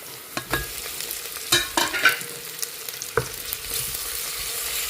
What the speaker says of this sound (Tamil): வெங்காயம் நல்லா வதங்கிடுச்சு. இப்போது ஒரு தக்காளி அதோடு சேர்த்துக்கலாம்.